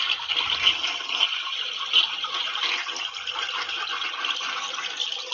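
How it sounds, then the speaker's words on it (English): A toilet flushes in a nearby room, a steady rushing hiss of water lasting several seconds with no talk over it. "I think it's a toilet flushing."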